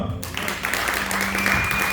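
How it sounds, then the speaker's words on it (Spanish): A church congregation breaks into brief applause after an abrupt start. The clapping is close and fairly loud, mixed with voices and a held tone. "Entonces vamos a dar una vez más el aplauso al Señor."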